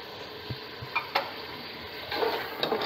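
Onion and tomato paste goes into a hot pot for an aloo matar gosht gravy, giving a steady close sizzle with a few soft thumps and scraping stirs. The frying grows slightly louder toward the end, and no one speaks.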